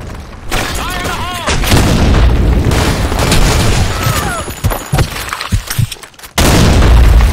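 Grenade blasts from the video game Blackshot: heavy booming explosions and gunfire fill the mix, with a loud burst near the end, while a voice shouts in game callouts.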